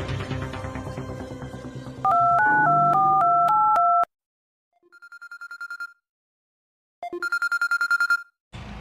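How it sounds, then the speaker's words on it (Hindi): A telephone being dialed to call the CID, heard as a run of alternating electronic keypad tones, then a pause and bursts of ringing tones, with no talk over it. "सीआईडी के फोन लगो।"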